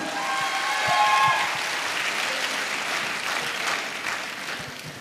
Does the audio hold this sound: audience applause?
yes